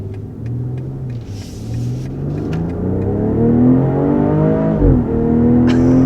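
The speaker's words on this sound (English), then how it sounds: "that of course is going to give you a much more aggressive exhaust note as you go into the sport mode" A 2022 BMW X3 M40i revving in sport mode with its active sport exhaust, a deep, rising exhaust note building in pitch and rumble, then dropping sharply before climbing again, loud and close.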